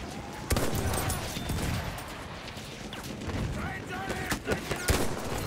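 Battlefield 1 sniper gameplay with rifle shots and battlefield gunfire cracking over a busy, noisy soundscape, heard faintly beneath someone talking.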